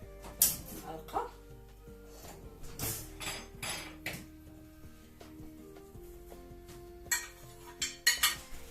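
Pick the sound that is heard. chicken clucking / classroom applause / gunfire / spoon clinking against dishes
spoon clinking against dishes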